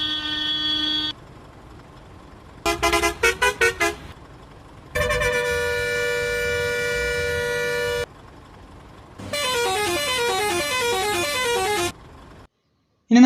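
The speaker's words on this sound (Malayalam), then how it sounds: "ഇനി സ്റ്റിയറിംഗിലെ സെൻട്രലിലെ ഹോൺ നോക്കിയിട്ട് ബാക്കി ഹോണുകൾ നോക്കാം." Bus horns from the steering-wheel centre in Bus Simulator Indonesia with a Kerala traffic mod: several loud tonal horn blasts in turn, including a rapid staccato toot burst, long sustained honks and a warbling musical horn, separated by short pauses.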